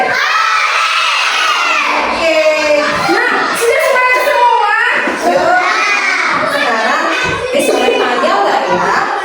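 A crowd of children shouts together loudly and excitedly, cheering in a noisy burst that fills the space.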